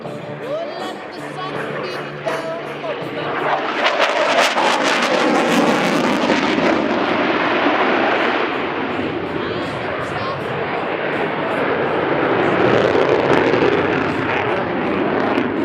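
F-18 Super Hornet jet at the 2017 Abbotsford Airshow, a loud broadband engine roar that swells around four seconds and stays sustained, heard under an announcer's voice and crowd ambience.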